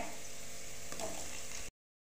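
Green chilies frying with garlic and ginger in oil, a soft continuous sizzle with a faint stir click, lasting under two seconds before cutting to silence.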